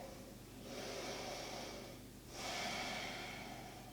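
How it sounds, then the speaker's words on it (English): A long, deep breath drawn in through the nose during a full-body stretching session, close and clear, then a short pause and a second strong inhale. "Breathe in, full breath here."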